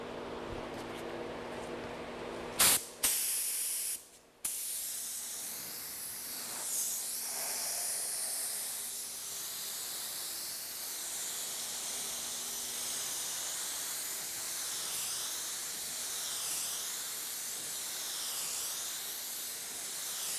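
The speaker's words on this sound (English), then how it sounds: "I'm going to spray 3 coats of high build primer." Steady broadband hiss of a spray gun laying down high-build primer over epoxy during car dent repair, continuous and fairly close, with a few brief clunks near the start.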